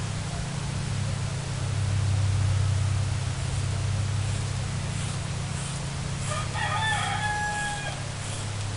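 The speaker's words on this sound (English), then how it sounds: "I have a rooster next door that doesn't know what time it is." A rooster next door crows once, a clear, drawn-out cock-a-doodle-doo at moderate distance, rising over a constant loud hiss and low hum of indoor background noise.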